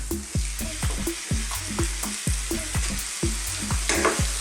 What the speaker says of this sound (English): Now let's just cook this beef like this, no lid or anything, just stir frying it in the pan